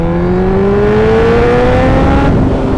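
A car engine drones steadily and loudly close by, its pitch slowly rising as the car accelerates along a lap of a country lane with loose stones.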